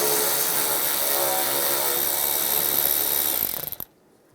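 A power tool with a 7mm socket spins out a bolt on the bumper end of a Chevrolet Silverado, a loud steady whirring drone close by that stutters and stops abruptly near the end.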